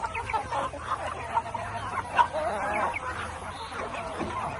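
Many Phu Phan black chickens cluck and murmur steadily in a busy, noisy coop, a constant layered chorus with occasional sharper calls.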